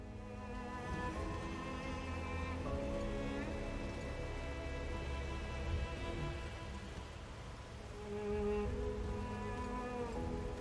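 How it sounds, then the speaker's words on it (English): Make It Rain skill effect in the Ruined King video game: steady rain pattering over a game music bed with low rumbling, continuous and moderately loud throughout. "Make It Rain. Deals 289 magic damage to all enemies over 3 hits and applies magic thunder."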